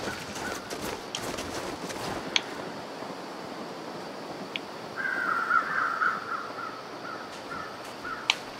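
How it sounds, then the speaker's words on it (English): Crows caw a few times at a distance in the snowy wilderness of the survival game The Long Dark, a rough harsh call standing out around the middle over a soft wind and ambient hiss. "I do see some crows"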